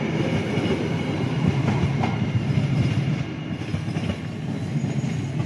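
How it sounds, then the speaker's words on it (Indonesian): Steady rumble of a locomotive shunting slowly nearby at a railway station, with metallic rail noise and faint squeals, no voices. "di jalur 2 itu lokomotif akan langsir"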